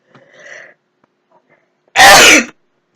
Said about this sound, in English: I'm just gonna sneeze off a sec.